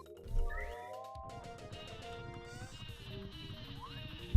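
Bleating sheep from the Paper Mario video game, set over bright tonal game music with a few quick cries near the start and a brief thump at the very end.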